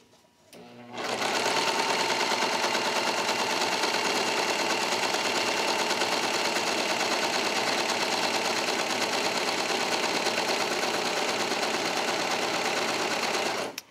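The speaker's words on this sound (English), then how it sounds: "I'm just gonna fold this fabric over and sew off the side." A serger sewing machine runs on shirt fabric for a neckline alteration, starting up after a brief quiet moment and then humming and rattling at a steady fast pace, loud and close, with no talking.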